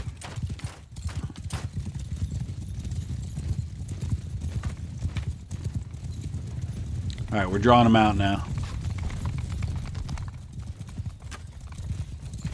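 Steady clip-clop of many horses' hooves as cavalry rides in a medieval battle video game, with a brief whinny-like cry midway and someone speaking briefly over the din.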